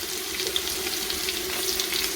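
Chopped onion and cumin seeds frying in oil in a home kitchen pan, a steady close sizzle with a faint ongoing hiss and no talking.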